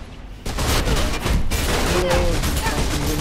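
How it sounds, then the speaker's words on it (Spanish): Rapid bursts of gunfire in the game Mirror's Edge crackle and boom continuously, dense and loud, with the layered, processed character of a game soundtrack. "balazos."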